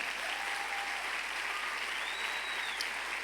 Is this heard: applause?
yes